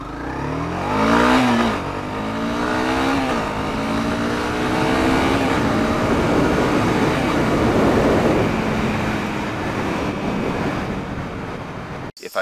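A 2017 Honda CB300F motorcycle pulls away hard from a standstill. The engine revs climb and shift, then settle into a steady, loud drone that fills the clip with no voices.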